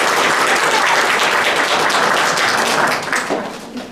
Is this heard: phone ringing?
no